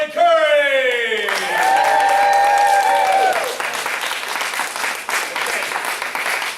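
Audience applause at a martial arts belt ceremony in Mount Dora, Florida: a loud, sustained wash of clapping from a room full of people that swells and then thins toward the end, with a voice over the start.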